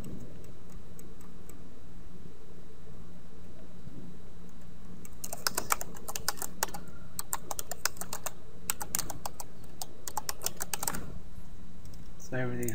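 Keys clatter on a computer keyboard during an OpenCart ecommerce software installation, in close, rapid bursts of clicks from around the middle onward over a steady low hum.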